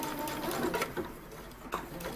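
Sewing machine stitching shirring elastic into fabric, running forward and then in reverse to lock the stitches, a steady close mechanical whir with faint rhythmic ticking throughout.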